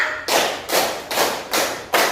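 Five crisp unison claps from a group of schoolchildren, evenly spaced like a counted beat, close and steady with no talking between them.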